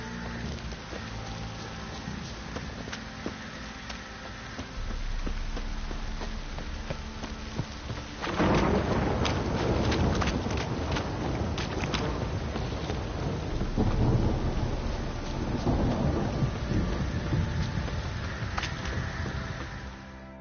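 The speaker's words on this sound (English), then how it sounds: "This downpour's a bastard." Steady heavy rain pours down in The Witcher 3 video game with deep rumbles of thunder rolling through, the storm swelling louder partway and holding as a dense, continuous wash.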